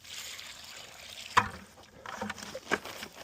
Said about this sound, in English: Get some more water in there.